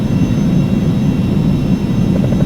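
Carenado Falcon 50 business jet in the X-Plane 11 flight simulator, its engines giving a loud, steady low roar with a faint high whine on top, unbroken and close throughout.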